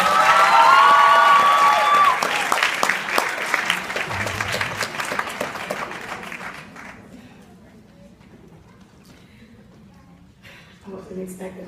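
Audience applauding a keynote speaker at a podium, dense close clapping with some cheering that swells loud and then gradually tapers off, with voices faintly under the fading applause.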